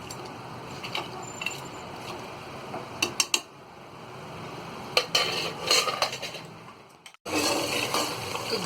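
Soft, tender cooked goat trotters tipped into a pot of yogurt-based gravy, with scattered metallic clinks and scrapes of a spoon against the pot, a few sharp knocks, and a low background hum.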